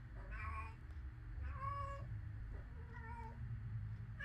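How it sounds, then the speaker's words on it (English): A young kitten meows three times at close range, rising plaintive cries spaced about a second apart over a low background hum. "That's our kitten."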